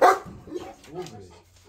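A dog gives a sharp, close bark followed by softer whining, yelping sounds, all within a couple of seconds indoors.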